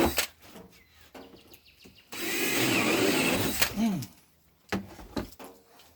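A battery-powered drill with a dying battery bores holes in a homemade washing machine, one loud burst lasting about a second and a half between short clunks and handling noises, with speech around it.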